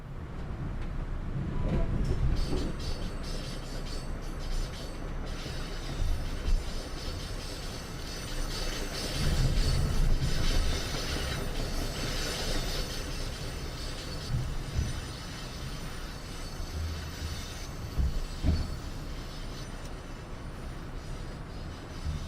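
An MBTA commuter train in a Boston rail-simulation game runs at high speed, giving a continuous rumbling roll with faint wheel clatter and swells of noise throughout.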